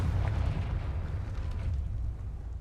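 Confringo fire spell going off in the Hogwarts Legacy video game: a dense, rumbling fiery blast with a heavy low boom that sustains for a couple of seconds with no talk over it.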